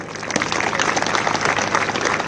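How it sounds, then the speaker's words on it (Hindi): Applause from the audience at an Indian Army Agniveer training ceremony, a steady dense crowd of clapping hands filling the whole stretch at high level with no pause. "कृपया तालियों में कमी ना करें।"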